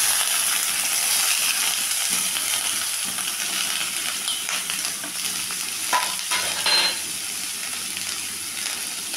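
Carrot, beans, capsicum and chopped onion fry together in oil with green chili and salt, giving a loud, steady sizzle close by, with a few metallic clinks of a utensil against the pan midway.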